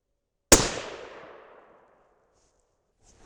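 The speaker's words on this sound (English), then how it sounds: "I'm going to shoot at the left-hand dot" A single suppressed shot from a Thompson Center Compass 6.5 Creedmoor rifle cracks sharply, followed by a decaying echo that fades out over about a second, then quiet.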